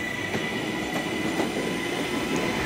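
A TransPennine Express Class 397 train pulls out of Manchester Piccadilly, giving a steady rumble with faint wheel clicks and a high whine, close and continuous, with no voices.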